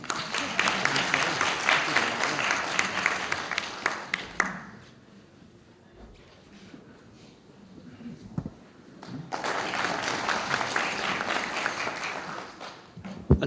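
Applause from a conference audience welcoming the opening address at the Korean ITS society's autumn meeting, a dense clapping burst that fades to near quiet midway, then rises again into full, sustained clapping.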